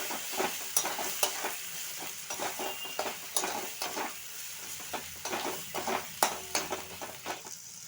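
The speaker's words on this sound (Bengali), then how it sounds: "আদা বাটাটা দিয়ে একটু ভালোভাবে মশলাটা কষে নেব" A spice paste of ginger and Kashmiri chilli being stir-fried, giving a soft sizzle under frequent sharp clicks and scrapes of a spoon against the pan in an uneven rhythm. The sound is moderately quiet and close, with no talking.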